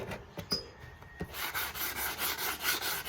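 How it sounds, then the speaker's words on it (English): Rhythmic hand sanding on antique oak shelves, a steady back-and-forth rasping in regular strokes, close and fairly quiet, after a few scattered taps. "Alright, so I'm just sanding these things."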